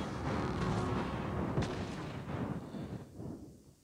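Naval gunfire from a warship in World of Warships Blitz, a loud booming salvo with a sharp blast midway, decaying into rumble as things quiet at the end.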